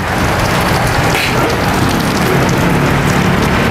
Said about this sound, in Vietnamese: cà mau đang mưa lớn à